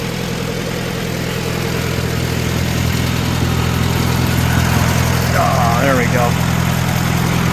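A Farmall A tractor engine runs with a steady, loud, low chugging rumble throughout, heard close up, while a person speaks briefly over it.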